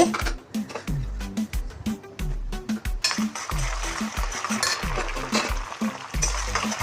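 Urad dal, chana dal, cumin, mustard seeds and dried chillies crackle and sizzle in hot oil for a tomato pickle tempering, with sharp popping bursts, steady frying hiss and occasional spoon clinks against the pan.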